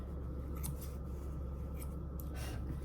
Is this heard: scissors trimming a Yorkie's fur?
yes